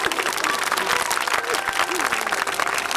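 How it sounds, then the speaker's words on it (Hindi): Applause from the audience at a Shrimad Bhagavat Katha gathering in a village, with dense, sustained clapping that fills the whole stretch at steady loudness and carries faint voices mixed in. "जोरदार ताली बजाइए एक बार"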